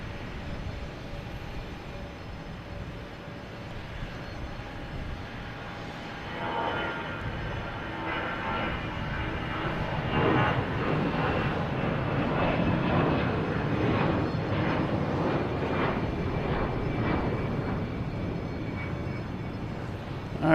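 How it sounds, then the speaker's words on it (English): American Airlines Airbus A319 jet taking off at Boston Logan, engine roar swelling from a quieter start into a loud, sustained rumble with pulsing whine tones, then holding steady. "next taking off is American Airlines Flight 2700. A319"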